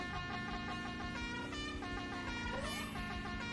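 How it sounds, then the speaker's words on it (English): Car Built for Homer horn honking in The Simpsons: Hit & Run game, a loud sustained tonal blare running through the clip over game music, with a rising swoop near the end. "I love the car built for Homer horn."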